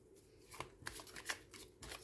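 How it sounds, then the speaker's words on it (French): Tarot cards being shuffled by hand for a reading, a quick series of soft riffling flutters and taps, close and quiet with no talking. "On va refaire le même tirage avec Monsieur Béline"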